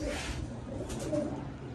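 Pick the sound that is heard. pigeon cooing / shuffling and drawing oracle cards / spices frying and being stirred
pigeon cooing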